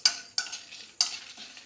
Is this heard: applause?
no